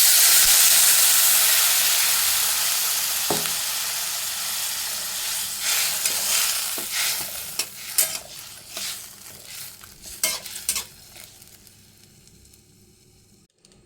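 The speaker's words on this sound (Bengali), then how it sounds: "এবার এর মধ্যে জল দিয়ে দেব।" Water poured into a pan of frying Maggi noodles with masala, a loud broad sizzle and hiss that fades steadily, broken by scattered clinks and stirring scrapes toward the end.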